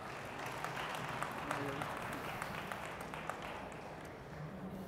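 Audience applause at a tech panel discussion, dense steady clapping from a crowd for a panel member being introduced, moderately loud and continuous throughout with scattered sharper claps.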